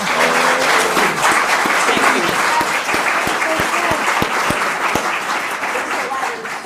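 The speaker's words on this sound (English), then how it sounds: "how about a round of applause for our school board?" Steady applause from a seated crowd at a school board meeting fills the room, loud and sustained for several seconds with scattered sharp individual claps and some voices underneath.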